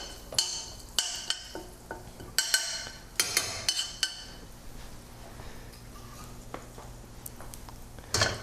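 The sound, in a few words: mustard seeds popping in heating oil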